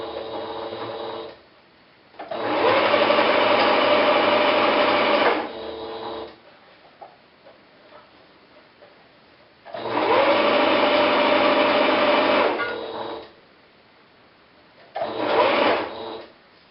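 A sewing machine stitches fabric in three loud, steady whirring bursts separated by pauses, with faint handling noises in the gaps.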